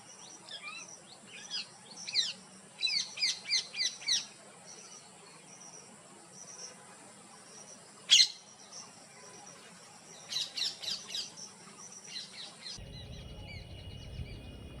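Bursts of shrill, rapid parrot calls come and go over a steady hum of insects, with one sharp call standing out in the middle.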